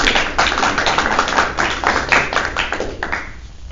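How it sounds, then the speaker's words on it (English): Applause from an audience at a high school press conference, with steady scattered clapping throughout and no speech. "so a round of applause for our"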